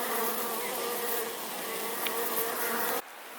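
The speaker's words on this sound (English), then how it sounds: "I think that bees are a great part of the landscape." Dense, continuous buzzing of a honey bee swarm during installation into a homemade top bar hive on a homestead, steady and close throughout before dropping off abruptly near the end.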